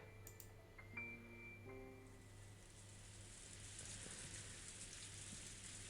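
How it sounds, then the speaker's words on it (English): Steady rain falls on the ground in an Umineko visual novel scene, a soft continuous hiss that runs the whole time beneath a low hum and a few brief tonal chimes near the start. "no noise was heard in the garden except for the rain hitting the ground"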